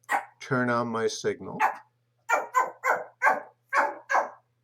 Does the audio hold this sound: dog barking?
yes